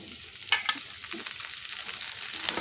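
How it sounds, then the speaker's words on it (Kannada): Chopped tomato fries with onions in a hot pan, a continuous close sizzling hiss with a couple of brief louder crackles near the start. "ಇದ್ರದಾಗ ಟೊಮೆಟೊ ಹಾಕ್ತೀನಿ ನೋಡಿರಿ"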